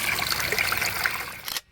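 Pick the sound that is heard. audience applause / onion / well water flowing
well water flowing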